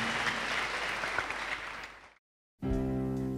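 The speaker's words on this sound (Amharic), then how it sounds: "አጨብጭቡላችሁ።" A church congregation applauds with dense, sustained clapping that fades and cuts off abruptly, followed by a short burst of a different tonal sound.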